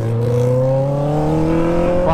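Motorcycles, including a Honda Hornet with an open exhaust, speeding past on a highway at night, a loud close engine roar with rising pitch as the bikes pass, with people talking over it.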